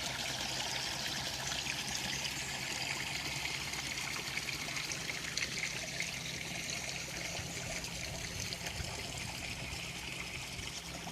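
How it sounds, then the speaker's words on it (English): Natural spring water at Boiling Springs State Park in Oklahoma flows in a steady, continuous stream, a close, even trickle and splash with no voices. "The springs produce about 30 gallons of water per minute, and that's coming out of a natural spring."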